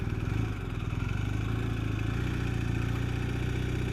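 A BMW R18 cruiser motorcycle idles nearby. Its low engine produces a steady, rhythmic throb with a faint mechanical clatter, holding even for several seconds.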